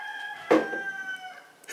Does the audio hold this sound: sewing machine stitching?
no